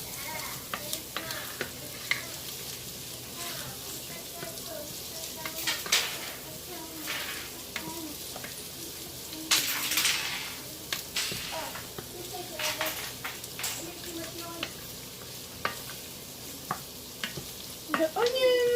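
Onions sizzle and fry in a pot for chicken noodle soup while a spoon stirs and scrapes, with soft clinks of cookware and occasional talking over the steady crackle.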